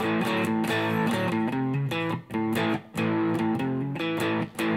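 Electric guitar through a JOYO Super Lead distortion pedal on the neck and middle pickups plays sustained, heavily driven chords with sharp rhythmic attacks and brief gaps, loud and alone.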